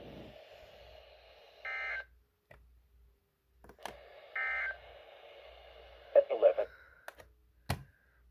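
National Weather Service weather radio end-of-message alert tones sound twice, separated by gaps, followed by a few clicks and a brief burst near the end.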